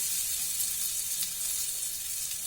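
Butter and cinnamon sizzle in a hot kadai, a steady close frying hiss that stays loud and even throughout with no voices over it.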